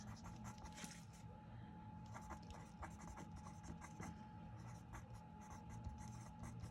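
A pen writes on paper while an envelope flip-flap journal is being made. Close, soft scratching strokes come in short bursts with brief pauses, over a faint steady hum.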